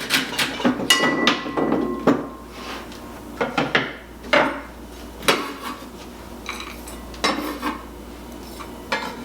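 Fibrous horseradish root grated by hand, with firm, uneven rasping strokes that come in short bursts, separated by knocks and brief pauses, close and fairly loud.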